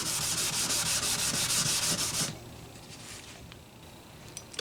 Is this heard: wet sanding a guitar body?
yes